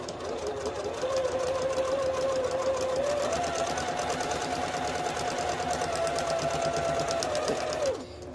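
Sewing machine stitching a seam across quilt fabric pieces, a steady continuous whir running nearly the whole time, close and fairly loud, stopping just before the end.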